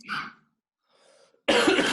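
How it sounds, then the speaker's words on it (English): A short cough, a faint breath, then a harsher, louder cough, close up and alone. "Well, it's tickly cough."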